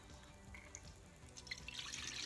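Half a cup of orange juice poured for a smoothie, a short soft liquid trickle with light splashy patter that grows a little fuller toward the end.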